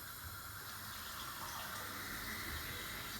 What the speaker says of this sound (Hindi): और ये 1 गिलास और डाल दिया है मैंने पानी